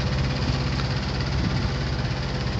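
A John Deere 7780 harvester engine runs steadily, a dense, loud mechanical drone with a constant low rumble and no pauses, and no voices over it.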